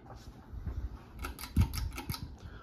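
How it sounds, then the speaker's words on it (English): Stiff pull chain on a Moss HF100 Series 52-inch ceiling fan being tugged, a run of sharp metallic clicks and rattles close to the mic, with no talking. "Pull chain is very stiff."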